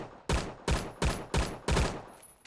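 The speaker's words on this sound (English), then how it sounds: "This gun, ECR. It doesn't have that good of recoil." An ECR rifle fires in the Roblox game Phantom Forces: five sharp, evenly spaced bursts of gunfire, each loud and short with a brief tail, alone without speech.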